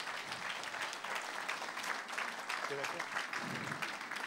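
Audience applause at the Pierres d'Or 2014 award ceremony, a steady wash of many hands clapping, sustained and fairly even from start to finish.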